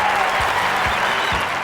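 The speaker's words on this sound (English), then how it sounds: "quite rightly the fans know to applaud" Sustained crowd applause at an Olympic shooting venue in the London 2012 video game, dense and loud throughout with a steady wash of clapping from many hands.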